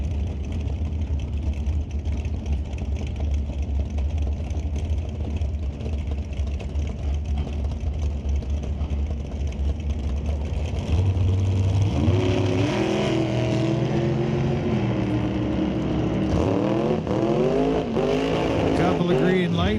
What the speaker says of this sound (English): We got another Shirk machine in the left lane. White dragster.